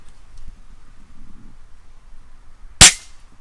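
A single sharp shot from an Umarex HK MP7 air gun cracks out close and loud after a quiet stretch of faint background rustle.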